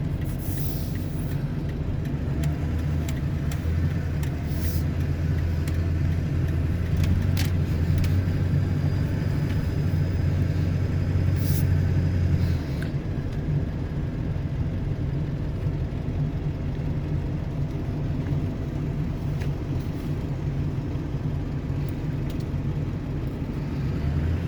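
A car engine drones in a steady low rumble while driving through a blizzard, with road and wind noise constant and a few faint higher clicks; no talking.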